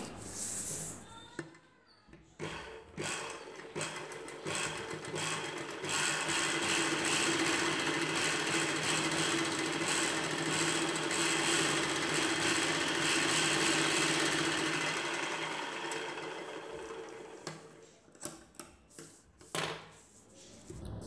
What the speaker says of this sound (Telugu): పై వైపున ఇంకొక కుట్టు వేసుకోవాలి.